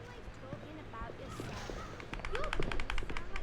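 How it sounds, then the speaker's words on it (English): Fireworks in the Harry Potter and the Order of the Phoenix video game crackle and pop in a rapid burst of sharp bangs that grows louder toward the end, over game music and a talking voice. "Nice little fireworks show."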